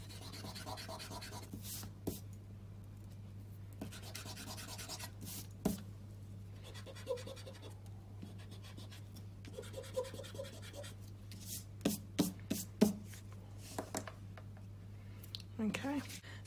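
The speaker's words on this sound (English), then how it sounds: "I'm just going to rub out these little marks that I placed there for the edges." An eraser rubbing out pencil marks on card makes faint, soft scratchy rubbing strokes close by, with a few sharper taps, over a steady low background hum.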